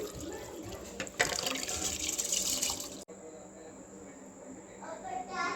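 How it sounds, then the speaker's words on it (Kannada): Rice-soaking water is poured into a pan of cooked onions while making tomato rice, a close, splashing liquid pour that stops abruptly midway and then continues more softly. "ಈರುಳ್ಳಿ ಬೆಂದ ನಂತರ ಇದಕ್ಕೆ ಅಕ್ಕಿ ನೆನೆಸಿಟ್ಟಿದ್ದ ನೀರನ್ನು ಹಾಕ್ಕೊಳ್ತಾ ಇದ್ದೀನಿ"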